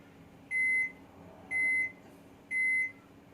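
Three evenly spaced electronic beeps from a microwave oven, each a clear, steady tone about a third of a second long, sounding alone in a quiet kitchen.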